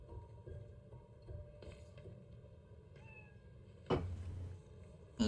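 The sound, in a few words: cat meowing in Spider-Man: Miles Morales video game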